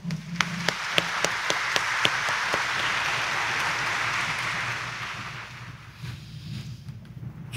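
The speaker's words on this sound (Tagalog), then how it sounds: "Yan ang huling palakpak dahil sa isang linggo, mahal na araw na ho." A congregation at Quiapo Church applauds during Sunday Mass, starting with a few sharp distinct claps, swelling into a broad sustained roar of applause in a large reverberant space, then fading away.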